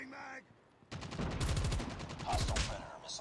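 Rapid automatic gunfire from the mobile shooter Call of Duty Mobile during a team deathmatch, a dense burst of rattling shots lasting a couple of seconds after a brief quieter moment, with a few scattered sounds at the start.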